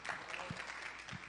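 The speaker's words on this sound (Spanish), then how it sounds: "Un fuerte aplauso" An audience at a medical conference on diabetic neuropathy applauds a doctor as he is welcomed, a faint, distant patter of many hands clapping, steady and soft throughout.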